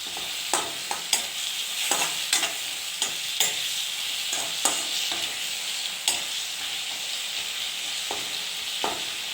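Tomato frying in a pan gives a steady, bright sizzle, broken by frequent sharp scraping clicks from a utensil stirring at an irregular rhythm, close and fairly loud with no voices.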